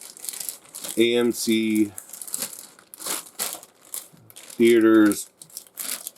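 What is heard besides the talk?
clear plastic bag of a toy crinkling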